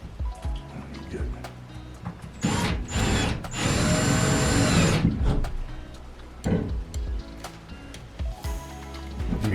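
A power drill whirs in a sustained burst of a couple of seconds, with shorter bursts and clatter of tools around it.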